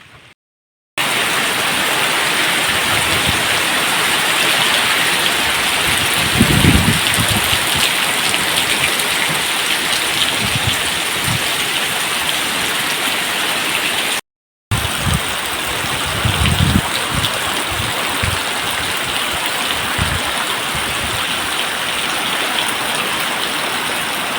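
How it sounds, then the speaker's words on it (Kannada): Heavy rain pours down steadily during a sudden downpour, a dense, continuous hiss and roar of water with no voices, briefly cut off once before resuming just as loud. "ಮಳೆ ಅಂತೂ ಜೋರು ಬರ್ತಾ ಉಂಟು"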